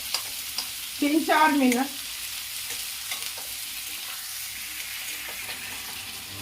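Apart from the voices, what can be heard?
frying black chickpeas on medium flame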